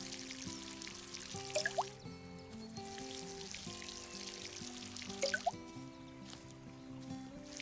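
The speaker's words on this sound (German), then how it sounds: "Jetzt gießen wir unsere Aubergine." An eggplant watered in the Garden Simulator game gives two short bursts of splashing and dripping over steady background game music, with no talk.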